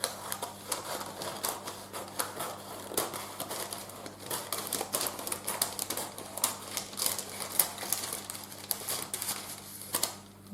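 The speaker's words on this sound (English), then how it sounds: "I'm not the neatest person at placing baking paper down on tins" Baking paper is pressed and crinkled into a cake tin while making an orange cake, a close, continuous run of soft rustling, tapping and crackling handled at length with no talking.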